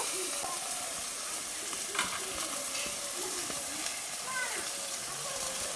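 Onion paste and finely chopped tomato hit hot oil in a frying pan, making a steady loud sizzle with bubbling hiss and occasional stirring scrapes, close up, with faint talk underneath.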